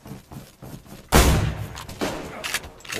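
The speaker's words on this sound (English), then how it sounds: "He's shooting at us" Gunfire erupts in a DayZ firefight, a sudden loud blast followed by a ringing, echoing roll and further scattered distant shots.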